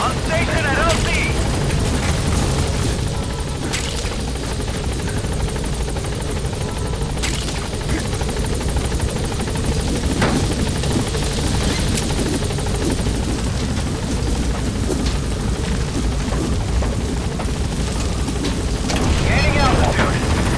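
A helicopter arrives at a landing zone in Metal Gear Solid V, its rotor wash a loud, dense, continuous roar with a few sharp bangs and thuds over it, and radio voices talking above the noise.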